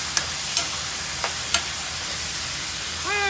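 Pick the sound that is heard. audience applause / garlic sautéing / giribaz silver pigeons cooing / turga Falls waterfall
garlic sautéing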